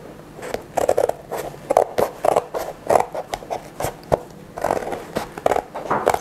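Scissors snip through paper again and again, cutting out a circular paper stop sign in a steady run of close, crisp cuts with short pauses between them.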